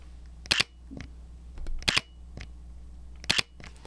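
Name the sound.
Sony A7C II camera electronic shutter sound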